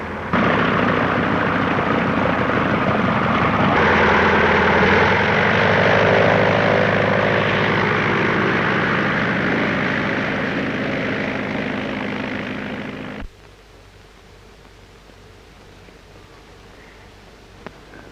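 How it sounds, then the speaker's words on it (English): A propeller aircraft drones loudly overhead, engine roar swelling and then cutting off abruptly, leaving quiet background. "Get the number of that plane."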